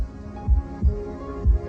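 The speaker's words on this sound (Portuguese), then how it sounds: "provoca o som característico do batimento cardíaco" Steady human heartbeat, three deep low thumps spaced about half a second apart over a faint background hum, with no voices.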